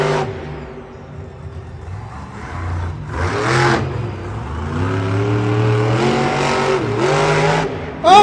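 A monster truck engine revs hard at a Monster Jam event in Ford Field, Detroit, climbing in pitch through sustained loud revving with shifting harmonics and a roaring crowd-arena backdrop, no talk.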